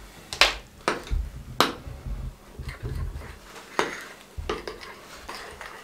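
Homemade gram flour and potato skin scrub mixed with a small spoon in a bowl: sharp metallic taps and clinks at irregular intervals over soft scraping, close and quiet, with no talking.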